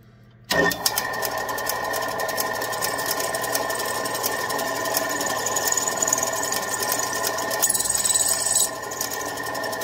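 A steady, high-pitched mechanical whine of a drill bit grinding into the metal of a Poulan Wild Thing chainsaw engine cylinder runs continuously at close range, with a sharp start and a brief shift near the end.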